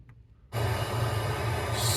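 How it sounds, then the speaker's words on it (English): A Toyota Corolla's engine starts after a brief quiet moment, jumping into a steady low idle hum that continues to the end. "now turn on the car."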